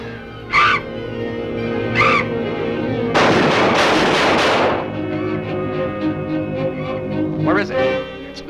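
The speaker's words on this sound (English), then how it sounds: "Quick, shoot it!" Gunshots fired at a bat in a 1940 film: a loud sustained burst of shots in the middle, with shrill bird-like squeaks before and after over a noisy old soundtrack.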